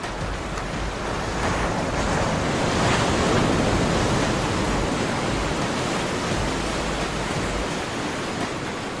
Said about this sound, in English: There's a big, huge pool here that when the waves crash over the rocks, it fills up the pool.